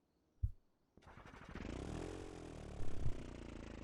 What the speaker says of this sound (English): there's that airplane engine